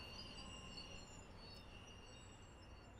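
A Metro North M3 commuter train brakes in the Train Sim World 5 simulator, giving a steady rolling rumble with faint high wheel squeal and thin whining tones throughout.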